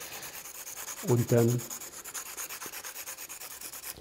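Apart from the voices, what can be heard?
pencil being sharpened on a sandpaper block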